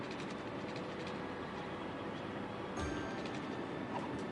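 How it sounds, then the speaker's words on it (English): A freight train pulls into a depot in the Cities: Skylines city-building game, giving a steady rumbling roll with faint clicking of rail cars that swells slightly near the end. It sits amid a continuous ambient game soundscape with no speech. "Oh, is that trains coming in? Really? Is this cargo? Freight train."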